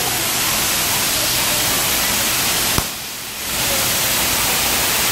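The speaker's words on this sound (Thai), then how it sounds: "โอ้โหฝนตกอย่างหนักครับที่ครัวคุณสาลาย" Heavy rain pours down outside a kitchen in Thailand, a dense loud roar like a waterfall that dips briefly after a sharp click and then surges back to full strength.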